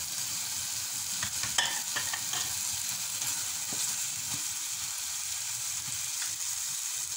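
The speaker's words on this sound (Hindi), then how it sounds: "ये इसको मैं चम्मच से भी मैश कर रही हूँ ना इसको" Foul medammas beans being mashed with a spoon in a pan, a steady soft sizzle running throughout with scattered scraping and stirring taps, close and alone.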